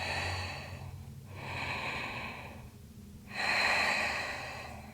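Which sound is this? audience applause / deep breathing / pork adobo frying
deep breathing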